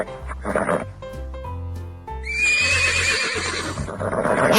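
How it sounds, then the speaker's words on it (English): A horse gives a long, loud, quavering neigh that rises and trails off, heard close after a light musical jingle in a children's animal guessing game. "Yes, it's a horse."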